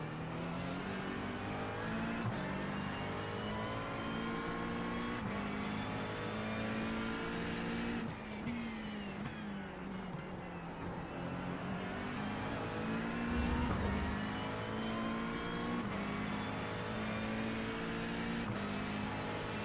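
Race cars lapping Sebring in a racing video game, engines loud and close with constant high revving that rises and falls through gear changes, a Ferrari among the field, and no talk over the roar.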